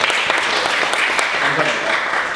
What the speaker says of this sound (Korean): 동의하시면 박수로 동의를 받겠습니다